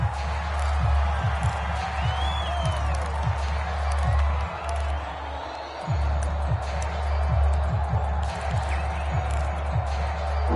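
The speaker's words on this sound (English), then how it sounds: "The crowd getting into it as we come up on a big 3rd down." A stadium crowd at a football game roars and cheers continuously in a dense wash of voices, with scattered whoops and claps, while a commentator's voice carries over it.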